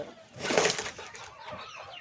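A chicken gives a short, close cluck with some soft scratching and rustling around it.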